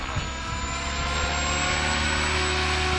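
A Mikado radio-controlled helicopter with a Vbar controller whines overhead at high rotor head speed, with a steady, high rotor and motor drone, loud and continuous throughout, while the helicopter shakes.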